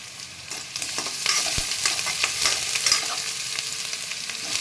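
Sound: chopped ginger and green chilli frying in a pan

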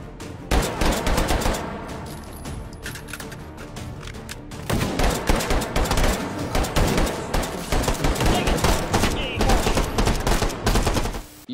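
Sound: dual-wield pistol gunfire in the VR game Hot Dogs, Horseshoes and Hand Grenades

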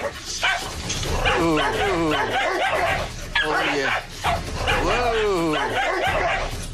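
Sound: aggressive dog barking

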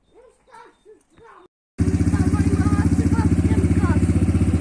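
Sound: quad ATV engine starting

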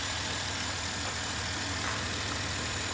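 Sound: minivan engine idling

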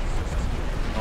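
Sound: T6 tank exploding in the video game War Thunder

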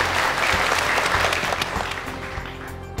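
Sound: audience applause as models return to the stage

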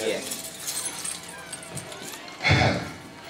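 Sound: keys jangling

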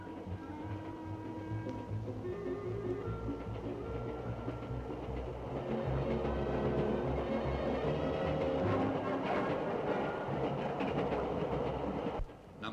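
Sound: LMS diesel electric locomotive 10000 running

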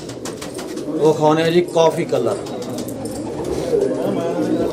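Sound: pigeons cooing

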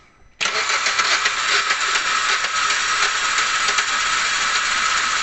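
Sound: Kia Rio 2012 car engine starting and running

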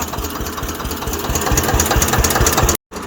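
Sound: tractor engine running

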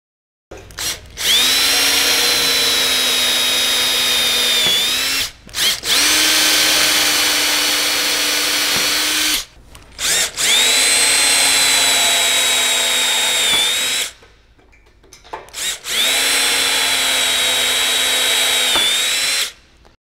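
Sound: power drill drilling two holes in a gangway frame

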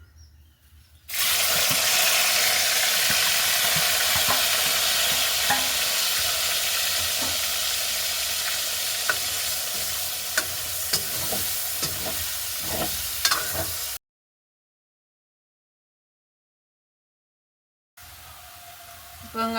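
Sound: raw plantain deep frying in oil

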